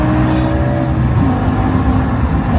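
A BMW M5 with a V10 engine accelerating hard in M mode, giving a loud, steady engine roar with rising tonal harmonics heard from inside the car, continuous and close throughout.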